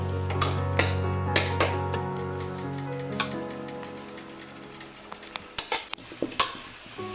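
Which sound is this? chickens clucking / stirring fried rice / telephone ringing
stirring fried rice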